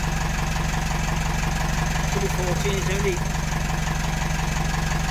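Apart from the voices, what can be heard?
narrowboat engine idling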